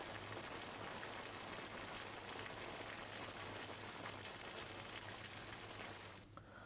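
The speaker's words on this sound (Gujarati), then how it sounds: "ગઢડા શહેર સહિત ગ્રામ્ય વિસ્તારમાં ધોધમાર વરસાદ પડતા" Heavy rain pours down over a town and surrounding countryside, a dense, constant hiss and roar of downpour that fills the scene evenly before cutting off abruptly near the end.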